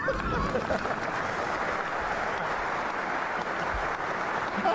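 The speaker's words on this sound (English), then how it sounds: "It's only the men applauding." A crowd of men applauding, steady dense clapping that fills the whole stretch with no breaks, loud and continuous, with a few faint voices mixed in.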